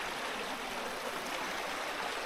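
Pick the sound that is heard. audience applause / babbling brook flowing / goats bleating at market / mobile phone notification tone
babbling brook flowing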